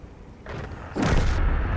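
A tank gun fires in World of Tanks from an AMX M4 mle. 54: a soft rumble first, then a single loud, heavy boom with a sustained low roar that slowly trails off.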